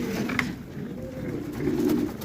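Domestic pigeons cooing in a loft, a steady low murmuring coo running through the whole stretch and swelling louder near the end, with no talk over it.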